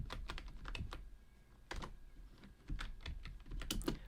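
A computer keyboard is typed on in quick, uneven bursts of soft clicking keystrokes, close and quiet, with brief pauses between runs.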